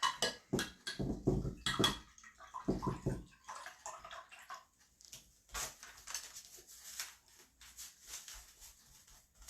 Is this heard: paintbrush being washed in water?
yes